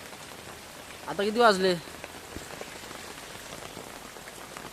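Steady rain falls on a riverside at night, a constant hiss of drops on surfaces throughout, while someone briefly speaks close by partway through.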